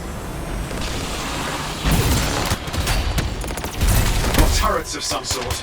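Rapid turret fire in the game Anthem, bursts of loud gunshots and booms in quick succession over battle noise, with a voice talking partway through.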